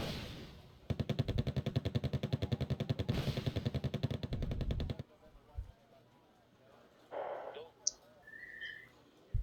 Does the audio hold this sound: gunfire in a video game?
yes